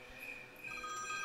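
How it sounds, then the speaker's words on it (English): A telephone rings, its tonal electronic trill repeating across the short moment, moderately faint and alone without anyone talking. "I hear a phone ringing"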